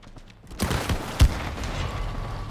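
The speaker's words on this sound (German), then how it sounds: "Kannst du die Flasche vielleicht runterschießen? Kannst du sie kaputt schießen?" Gunshots aimed at a bottle in the video game It Takes Two: a couple of sharp bursts, one heavy impact thump, then a lingering noisy tail.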